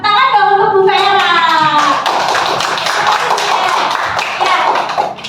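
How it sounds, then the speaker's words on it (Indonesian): Audience applause for Bu Vera during a teacher-training session, scattered hand claps following a voice at the start, continuing unevenly and fairly close. "Tepuk tangan dong untuk Bu Vera."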